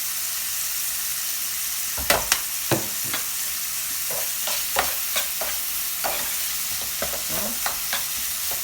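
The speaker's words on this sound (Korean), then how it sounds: "새우를 완전히 익을 때까지 이렇게 한불 넣어서 놔주세요." Shrimp cooking over heat in a pan with seasoning salt and chili flakes for a milk butter pasta: a soft continuous sizzle broken by clustered spatula taps and scrapes, close and fairly quiet.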